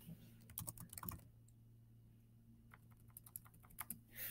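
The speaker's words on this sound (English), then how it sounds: "I'm going to go ahead and start typing my name." Bursts of quick, close key clicks as a name is typed on a computer keyboard, a clustered flurry at the start, a quiet pause, then more scattered taps toward the end in a quiet room.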